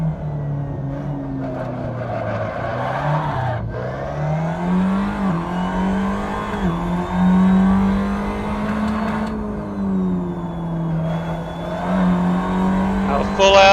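Tatuus FA01 open-wheel race car in Assetto Corsa climbing Pikes Peak, its engine held at full throttle in fifth gear with a steady high drone that rises and dips through shifts, while a voice talks over it.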